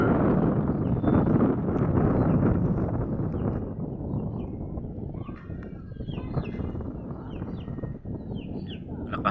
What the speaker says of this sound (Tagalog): Lakas kasi yung hangin eh.